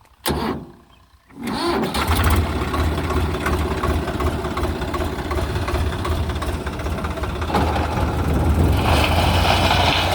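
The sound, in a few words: Swaraj tractor engine running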